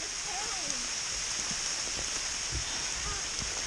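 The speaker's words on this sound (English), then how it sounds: "It started to pour. It's hailing." Hail and pouring rain outdoors at a state park, a dense steady hiss of falling water with scattered sharper impacts and faint background voices.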